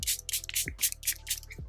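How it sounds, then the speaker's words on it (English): Charlotte Tilbury Airbrush Flawless Setting Spray misted onto a face in a run of about six quick hissing pumps, close and crisp, with no talking. "So I'm gonna go in with my Charlotte Tilbury Airbrush Flawless Setting Spray."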